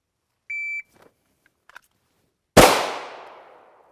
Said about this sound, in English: he's going to do a single shot from the holster